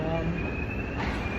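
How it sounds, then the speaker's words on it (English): Airport shuttle train moving along its track, a steady low rumble with a thin high wheel squeal running through it. "Dude, I'm driving the train."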